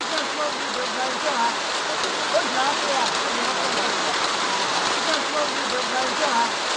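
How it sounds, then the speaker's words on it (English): Steady heavy rain falls throughout, a dense continuous hiss of drops on surfaces, close and unbroken from start to finish. "We had to pause the interviews at this moment because it was just about raining."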